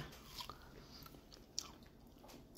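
Someone eating melon on a hot day, with a few soft, close bites and moist chewing sounds, quiet and isolated with no talking.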